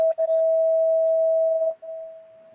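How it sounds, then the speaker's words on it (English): An electronic school bell in Deckerville goes off, a steady loud tone sounding alone for nearly two seconds, breaking briefly, then continuing more softly. "that was the school bell here in Deckerville going off."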